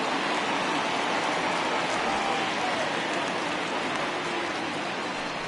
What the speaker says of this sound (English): the rain coming down